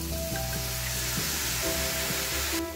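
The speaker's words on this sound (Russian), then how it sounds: "Отправляю опять лук в сковороду. Присыпаю слегка мукой, дам немного портвейна, совсем чуть-чуть," Onions sizzling steadily in a frying pan, dusted with flour and splashed with a little port wine, a continuous close hiss with faint stirring scrapes and no talk.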